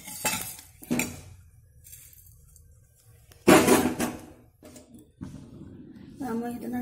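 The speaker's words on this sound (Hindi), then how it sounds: "मैं इतना सौंफ भून रही हूँ," Fennel seeds dry-roasting in a metal kadhai while being stirred, giving scattered sharp metallic clinks and scrapes of the spoon, with someone talking in between.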